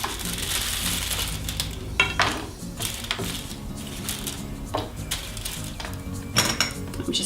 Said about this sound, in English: add 200 grams of chocolate to that, and then give it a good stir until it's nicely dissolved